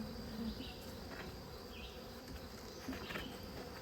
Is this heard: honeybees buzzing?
yes